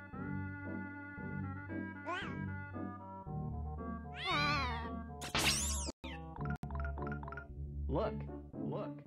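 A cat in the video game Pac-Man 2: The New Adventures meows loudly several times, its rising and falling cries sitting on top of steady game music and a few sharp effect sounds.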